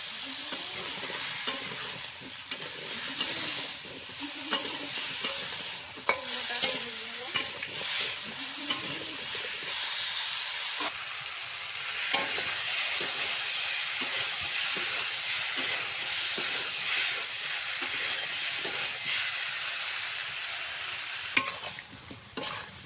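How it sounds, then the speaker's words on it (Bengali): Sweet pumpkin frying with turmeric and salt in a pan, a steady loud sizzle and hiss throughout with frequent scraping stirs from a utensil, and no talking. "মিষ্টি কুমড়োটা ভাজা কষানো হয়ে গেছে,"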